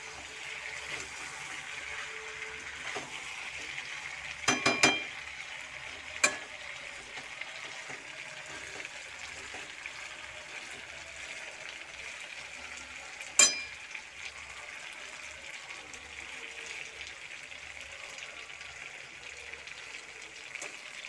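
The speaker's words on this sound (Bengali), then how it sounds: "তোমার মা মাংস একটু নাড়ছে, মাংসটা কষা হয়েছি প্রায়" Meat with spices sizzles steadily in a frying pan as a woman stirs it, giving a soft, continuous frying hiss broken by a few sharp clinks of the spoon against the pan.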